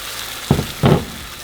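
Two short bursts of loud sizzling as enchilada sauce hits hot oil, each about a third of a second, against a faint steady background hiss.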